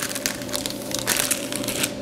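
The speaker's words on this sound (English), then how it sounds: "Going to unwrap all of these and put them in this little jug." Several wrapped caramel sweets are unwrapped one after another, giving close, continuous crinkling and crackling of plastic wrappers with bursts of louder crumpling.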